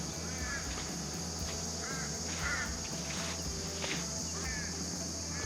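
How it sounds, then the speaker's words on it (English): Crows calling at a cool, quiet remote bush camp in the Oxley Wild Rivers area of New South Wales, several harsh caws rising over a steady insect drone and low rumbling background, fairly distant. "Crows are out having a good time."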